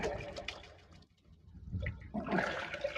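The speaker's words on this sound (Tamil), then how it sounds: "20 லிட்டர் பக்கெட்டில் தண்ணி இருக்குது, அதில் மிக்ஸ் பண்ண போகிறேன்" Liquid fish amino acid fertilizer is poured into a 20-litre bucket of water and stirred in, giving close sloshing and pouring water sounds that pause briefly and then return more strongly.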